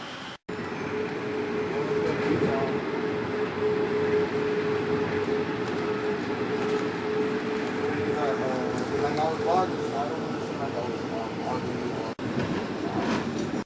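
An Amtrak Northeast Regional train on the Boston–Washington route rumbles along the rails in a steady, continuous roar heard from onboard, with a faint tonal whine and occasional clicks from the wheels. A voice talks over the running noise.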